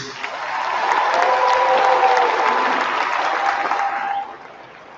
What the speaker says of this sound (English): let's give another round of applause to the teachers